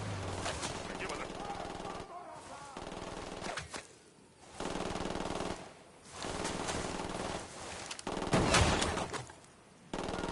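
Automatic gunfire from a Ghost Recon Wildlands firefight, with dense bursts of rifle and machine-gun fire in repeated volleys broken by short pauses, loud and close, with voices shouting over the shooting.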